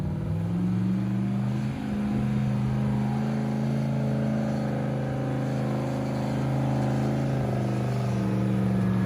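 An off-road buggy engine drones steadily at moderate distance, rising slightly in pitch as it works its way down a steep, rocky obstacle at a memorial ride event.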